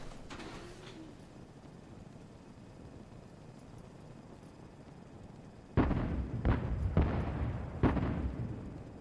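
Artillery fires in Fallout 4, several heavy booming shots in quick succession over a steady low rumble, distant but powerful, with a faint earlier shot.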